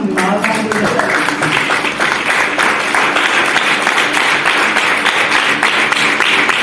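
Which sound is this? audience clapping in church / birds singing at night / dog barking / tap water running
audience clapping in church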